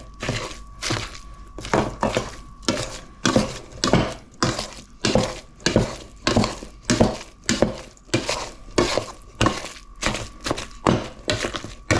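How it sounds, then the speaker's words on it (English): Sardine fishcake mixture is worked briskly in a bowl, making a steady rhythm of wet thunks and clacks about twice a second, close and fairly loud, with no talking. "I'm just going to mix everything up quickly."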